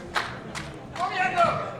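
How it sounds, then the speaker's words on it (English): Swedish national team cheering on a bench press athlete at the World Equipped Bench Press Championships, with sharp claps and shouts in bursts and a voice near the end, over a busy arena murmur. "You can hear the Swedish national team cheering him on."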